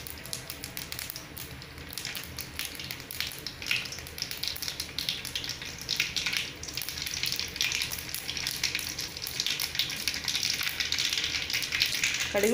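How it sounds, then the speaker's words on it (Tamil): Mustard seeds spluttering in hot oil at the start of rava upma: a dense, steady crackling sizzle with scattered sharp pops that carries on close and unbroken, with no voices. "கடுகு நல்லா பொரிஞ்சு வரட்டும்"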